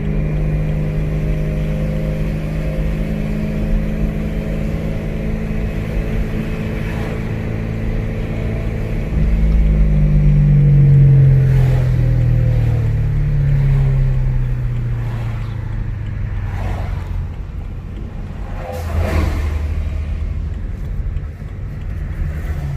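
A supercharged BMW E92 M3 engine revs up toward 5,500 RPM and holds at high speed with a rising, sliding pitch, loud and steady, then eases back down.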